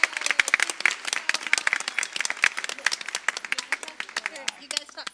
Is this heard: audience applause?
yes